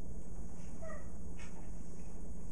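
A pet dog waking from sleep lets out a couple of soft, brief whimpers, faint and close over a constant hiss of background noise.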